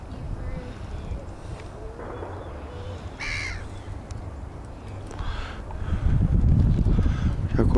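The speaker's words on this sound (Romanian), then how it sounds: "Sunt o groază de pescăruși" Gulls call among wild ducks in a city park on New Year's Day, with a few scattered cries over a low outdoor rumble that grows louder toward the end.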